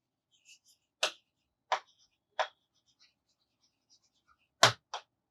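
A teacher writing on a board in an English class, sharp isolated taps and strokes spaced about half a second to a second apart, with a final close double stroke, in an otherwise quiet room.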